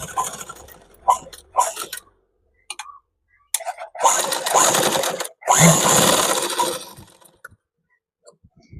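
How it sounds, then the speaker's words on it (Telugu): A sewing machine stitches a school shirt collar in short bursts of rapid whirring and needle clatter, two longer runs in the middle, separated by pauses and brief handling noises. "ఇప్పుడు మనం ఈ కుట్టు పక్క నుండి ఒక పాదం వరుసన కుట్టు వేసుకుంటూ రావాలి"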